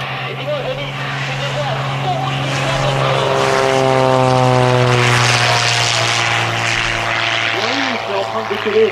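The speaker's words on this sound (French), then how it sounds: "ça fait un bruit de tonnerre dans cet avion" A propeller airplane engine at an air show roars loudly and steadily as it runs up to full power, its droning pitch rising slightly over several seconds.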